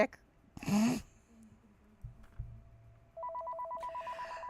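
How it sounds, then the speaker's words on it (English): A phone rings with a steady pulsing electronic tone that starts partway through and continues to the end, preceded by scattered faint noises and a brief voice sound. "as my phone starts ringing"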